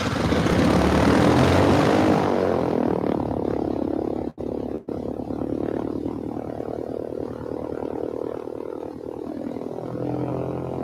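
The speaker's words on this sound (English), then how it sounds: "let's fire up the engine and see how a typically complacent pilot might handle an aborted takeoff" A light aircraft's piston engine and propeller running on the ground before takeoff, a loud close steady drone with a continuous buzzing throb, briefly dipping twice, with no voices.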